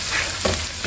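Garlic sizzles in melted butter in a frying pan, a loud continuous crackle with a couple of soft stirring scrapes and no talking.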